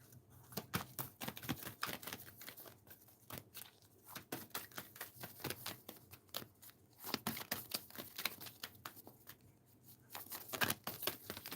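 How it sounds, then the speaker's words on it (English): Rapid riffling and flicking of playing cards being shuffled, in irregular bursts of crisp clicks with brief pauses between. "Two more shuffles and I'll pull from the top."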